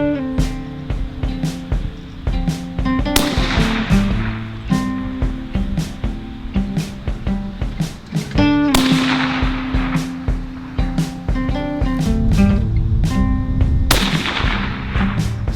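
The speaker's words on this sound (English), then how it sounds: "We're going to be shooting some Seiko bullets today" Rifle shots fired through an Accurate Hunter Pro moderator with Seiko bullets, giving several loud, sharp suppressed reports with short decays, spaced a few seconds apart over a steady outdoor background.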